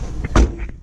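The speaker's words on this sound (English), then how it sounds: "We're going to open up this really light door." The light door of a 1993 NA Mazda Miata opens, giving a short close clunk and latch click followed by a softer knock, with no talking.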